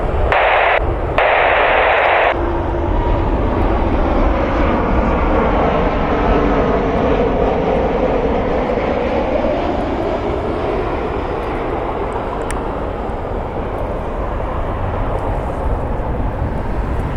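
A United 737 MAX 9 inbound from Cancun arrives at rainy Cleveland, a loud, steady engine roar with a slowly shifting whine as it passes, opened by a brief crackle of radio static, with no talking.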